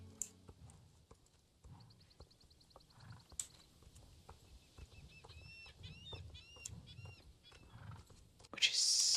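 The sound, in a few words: horse noises in the video game Star Stable Online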